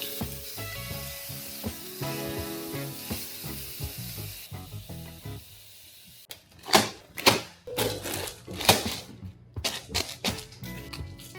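Garlic, onions, tomatillos, Roma tomatoes and jalapenos sizzle in a pan, crackling and spitting in bursts that follow music at the start, close and clear with no talking.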